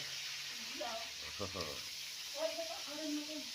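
Tempe fries in a pan with a soft, steady sizzle, quiet and continuous, while people talk over it.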